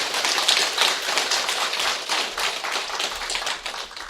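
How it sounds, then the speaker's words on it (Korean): An audience of Buddhist monks at a Avatamsaka Sutra lecture claps together, a dense, even patter of many hands lasting several seconds, fairly close and with no talk over it. "박수 한번 쳐주십시오."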